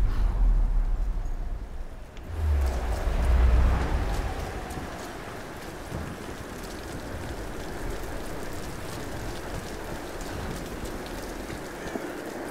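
Steady heavy rain pours throughout a Tomb Raider game scene, a dense even hiss with a louder low rumble in the first few seconds, no talk over it.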